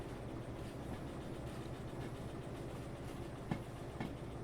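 A heavy freight train in Derail Valley rolls along with a DE6 diesel locomotive being pushed, giving a low, steady rumble with faint rhythmic rail clatter and a couple of soft knocks, quiet and without voices.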